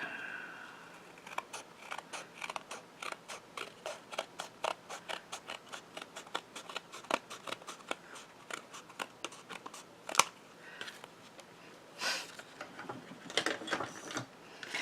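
Scissors trim the white edge off inked embossed paper, a long run of rapid, steady snipping clicks close up, each cut crisp and regular, with a few louder closing snips toward the end and no talking.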